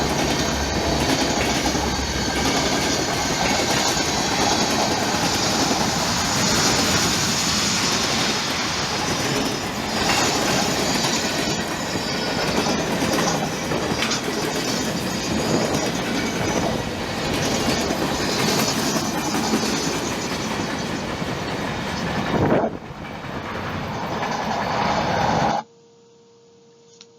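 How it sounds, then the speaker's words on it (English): A CP train rumbles past on the tracks for a long stretch, loud and close, with rhythmic wheel clatter and squealing, then cuts off abruptly. "And that's the train."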